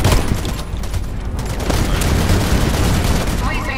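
Turret gunfire in the Warface video game erupts in a dense, continuous fusillade of rapid shots and booms, loud and sustained across the whole stretch, with faint voice traces mixed in.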